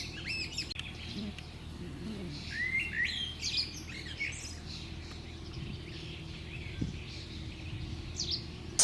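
Birds chirping in a green springtime garden, several bright tweets and short song phrases near and at a distance, with quieter stretches between calls.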